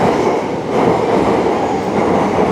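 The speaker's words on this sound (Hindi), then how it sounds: "सो गाइज ये है शिबुया मेट्रो स्टेशन, जो काफ़ी बड़ा है।" A metro train at a Shibuya station platform in Tokyo, a loud steady rumble of wheels and carriages with a dense broadband roar, close and continuous with no speech over it.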